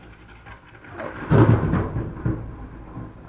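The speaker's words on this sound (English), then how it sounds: "it has started raining" Rain falling with thunder: a low rumble swells and peaks midway, then rolls off under the steady hiss of rain.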